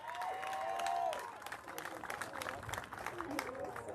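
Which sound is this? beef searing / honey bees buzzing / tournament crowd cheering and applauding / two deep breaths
tournament crowd cheering and applauding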